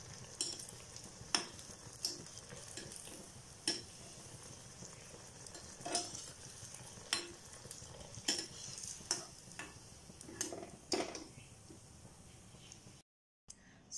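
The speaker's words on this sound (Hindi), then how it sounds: "एक साइड अच्छी तरह से फ्राई हो गया और दूसरा तरफ फ्लिप कर लेती हूँ" Malpua frying in a pan, a faint steady sizzle punctuated by sharp intermittent taps and clinks of a utensil against the pan, with a brief silent gap near the end.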